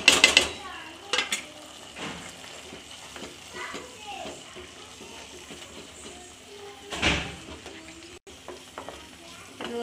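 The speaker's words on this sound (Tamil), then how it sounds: "இது ஒரு 5 நிமிஷம் கிண்டுங்க." Onion-tomato masala for chicken curry stirred in a pan, a spoon scraping and clinking against the metal over a low sizzle, with a few louder knocks and scrapes along the way.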